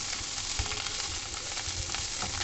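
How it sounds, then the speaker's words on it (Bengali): Vegetables sauté in butter in a hot pan, giving a steady close-up sizzle with faint stirring scrapes and small crackles throughout, with no voices. "সতে ভেজিটেবলটা করছি"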